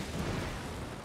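Wall exploding in a Total War video game siege, heard as a dull, rumbling blast with a heavy low-end thump that stays dense and sustained, with no talk over it.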